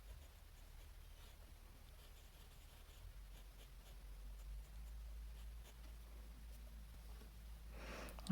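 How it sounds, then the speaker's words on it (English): Fountain pen with a black stainless steel medium nib, an all-black Quebeco Percayo, writing on paper: faint, close, continuous scratchy strokes with soft rhythmic variation and a small bump at the very end. "Next, I'll be writing with my Quebeco Percayo All Black. It has a black stainless steel medium nib."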